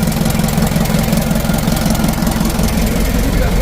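A diesel truck engine idles as it warms up, fitted with a 100 PS Ragasa injection pump. It gives a steady, loud, rough knocking rumble with a constant vibrating chug and no pauses.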